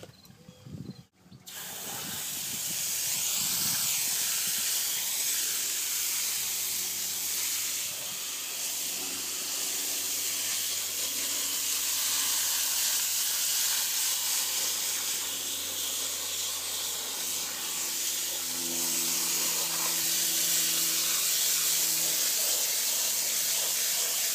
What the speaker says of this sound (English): All right, time for a spray.